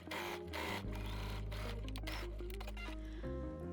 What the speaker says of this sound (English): Finish by top stitching 2 mm from the folded edge.